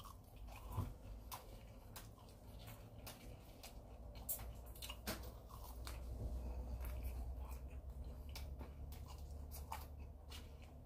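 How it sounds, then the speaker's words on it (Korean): Burger King potato fries being eaten close to the microphone, soft irregular bites and chewing crunches over a faint low hum, with no talking. "먹는 김에 그냥 먹어버릴게요"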